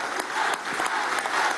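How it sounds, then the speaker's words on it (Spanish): A short burst of crowd applause follows a call to honour the party's national leadership at the closing of a political forum in Venezuela. The clapping is dense and steady. "Un aplauso a la Dirección Nacional."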